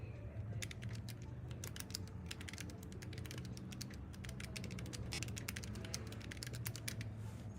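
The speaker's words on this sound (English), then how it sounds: "So you guys can just hear me typing for a little bit here." Typing on an ortholinear mechanical keyboard, with a steady run of sharp, close key clicks in an irregular rhythm over a low background hum, no talking.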